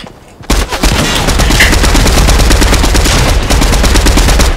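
Rapid automatic gunfire in the Fortnite video game, a loud sustained burst of dense shots rattling almost continuously after a brief quiet opening.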